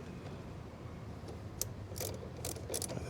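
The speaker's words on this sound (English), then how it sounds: "Tighten up the two screws" A ratchet tightens mud flap screws on a Tesla Model 3, giving soft, quick clicking pawl sounds close by over a low background hum.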